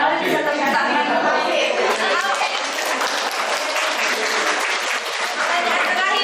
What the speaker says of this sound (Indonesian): Barangkali bisa tepuk tangan.